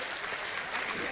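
Applause from an audience at a Hindi poetry recital, a steady, soft wash of clapping heard from a distance with no talking over it.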